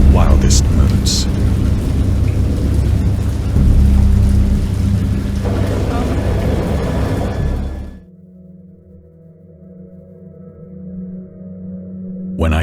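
Thunderstorm in a horror visual novel, with heavy rain pouring continuously and deep rumbling thunder, loud and close, then an abrupt cut to quiet low ambience.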